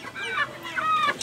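Farm chickens cluck and squawk close by at feeding time, short overlapping calls in a brief busy burst.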